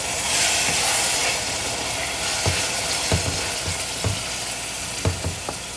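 Blended tomato frying in oil for a village-style salmon fish curry, a steady close sizzle with several soft stirring knocks and scrapes at intervals.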